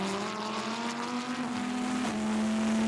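A Mosler race car at Zolder circuit during a Dutch Supercar Challenge race, its engine droning steadily up close, then dropping pitch sharply as it brakes.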